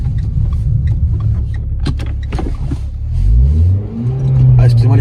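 Renault Sport car pulling away quickly in reverse, engine note rising over a few seconds close by while someone talks over it.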